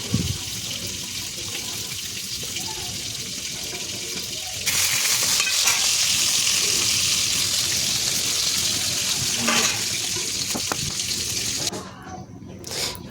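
A steady, loud sizzling hiss of fish frying in hot oil runs throughout, growing slightly louder midway before easing off near the end.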